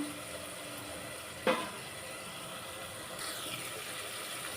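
Ingredients for a rice-and-lentil dish sauté in a pan, giving a faint, steady sizzling hiss with one brief clink partway through and no talking.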